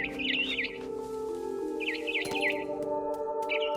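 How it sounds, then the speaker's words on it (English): A barn swallow chirps in bursts of warbling twitters over a steady droning background hum, set in the game What Remains of Edith Finch; two or three distinct phrases, clear and moderately close. "Then I heard chirping outside my window. It was a barn swallow going back to her nest."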